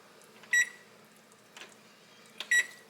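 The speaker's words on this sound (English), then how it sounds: "Now I'm going to set me a timer for 5 minutes" A kitchen timer is being set for five minutes over a stovetop pot of fudge. It gives two short, bright electronic beeps about two seconds apart, with a softer button press between them, over a faint hum.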